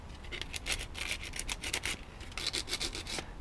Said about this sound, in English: some abrasions in the brass tube, and you want to go across the tube, not in the length.